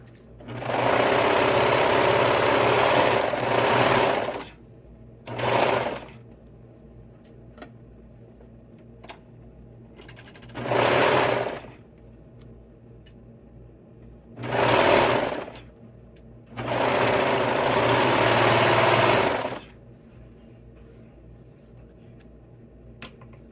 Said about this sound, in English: So first I will sew this side